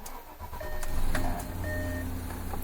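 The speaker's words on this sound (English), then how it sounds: "let's turn the bloody engine on" A car engine is started during a diagnostics session, with a starter whirr building into a steady running idle and short electronic tones from a diagnostic tool chiming over it, close and moderately loud.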